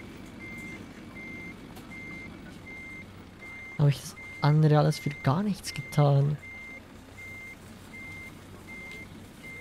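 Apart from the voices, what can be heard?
truck reversing beeps in a truck driving video game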